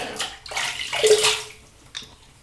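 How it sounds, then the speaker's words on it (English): Water splashes close by as a face is rinsed after a wet shave with Martin de Candre soap and a Mühle R41 safety razor, a few wet sloshes over about two seconds, with no voices. "let me just rinse off one more time and then towel off"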